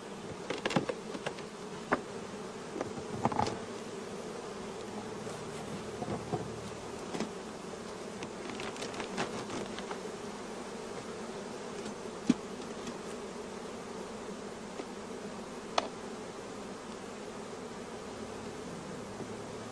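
Honey bees buzzing around brood frames during a hive transfer, a steady close drone of many insects with occasional sharp clicks and knocks of frames being handled.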